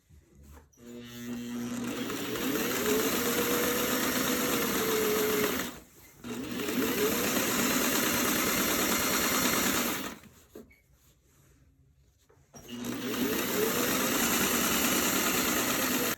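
A sewing machine stitches bias tape binding down onto a quilt edge in steady runs of even mechanical whirring, close and loud. The runs are broken by short pauses and one longer stop, with no talking.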